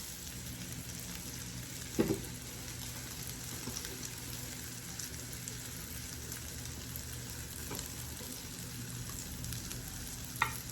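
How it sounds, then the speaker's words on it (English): Salami slices and sausage links fry in a pan during a Sunday brunch, giving a steady, even sizzle throughout with a couple of brief clinks standing out now and then. "over here we have our fried salami and our sausage links"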